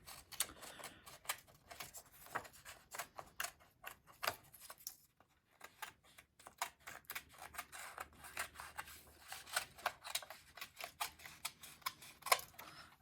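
Small scissors snip steadily through paper while cutting out a cone shape, a quiet series of crisp close clicks and snips with one short pause midway.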